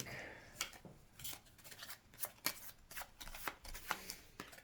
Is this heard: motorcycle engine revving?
no